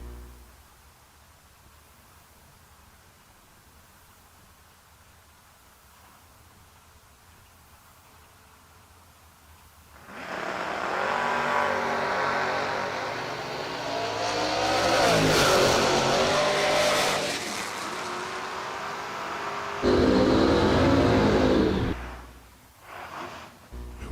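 A Camaro launches down a drag strip in a side-by-side race, a distant steady hum giving way to a loud roaring run that swells and shifts, then a second hard engine burst near the end.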